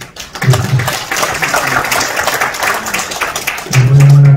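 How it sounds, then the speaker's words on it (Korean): Audience applause at a church literary award ceremony and book launch, a busy continuous patter of clapping from a room full of people, with voices and a low hum mixed in near the start and end. "우리 박수 한번"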